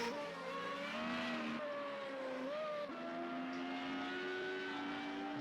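A Formula Renault race car in a sim racing league event at Brno howls along the track, its engine pitch rising and shifting through gears, faint and distant with some tire noise.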